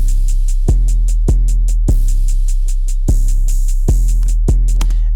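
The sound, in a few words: simple two-step hi-hat pattern in a beat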